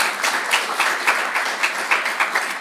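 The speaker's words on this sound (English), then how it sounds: "Please give applause to the board." Convention attendees clap for the board in a lively round of applause, with distinct clap peaks standing out over a continuous rustle of hands, fairly close and loud.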